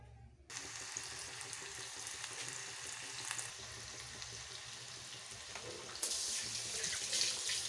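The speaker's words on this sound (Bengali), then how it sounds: "এখন আমি আলু আর কাঁচকলা একটু ভেজে নিচ্ছি।" Potato and raw banana slices fry in a pan of hot oil, giving a steady, close broadband sizzle that thickens and grows louder toward the end, with no talking.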